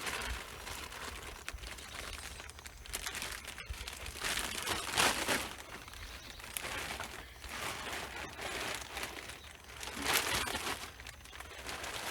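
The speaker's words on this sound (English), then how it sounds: "and then running the electrical tape around that way" Electrical tape is pulled and wrapped around folded material, giving continuous crinkling and rustling with periodic louder peeling surges, close up and with no talking.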